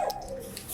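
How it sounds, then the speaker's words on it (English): An old dog gives a short, thin whine or yelp, one brief sound heard alone at moderate distance. "The dog sound like he ain't got no life."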